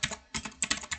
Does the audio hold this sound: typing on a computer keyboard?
yes